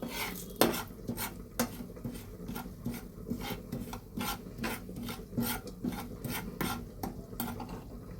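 A spoon scrapes rhythmically against a pan as spices are stirred into oil over high heat for khasta kochuri filling, a close series of rasping strokes roughly twice a second over a low sizzle.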